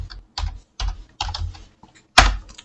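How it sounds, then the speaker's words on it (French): Keys on a computer keyboard clatter in a few quick clusters of clicks, ending in one sharper, harder keystroke, close and clear in a quiet room. "si je tape, pour vérifier, si je tape Genève"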